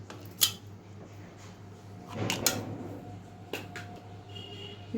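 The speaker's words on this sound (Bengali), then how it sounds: "বিট লবণ, চাট মশলা আর দুটো আইস কিউব দিয়ে দিচ্ছি" Two ice cubes clink into a glass of green mango juice mix seasoned with black salt and chaat masala, a few sharp close knocks and rattles over a low steady hum.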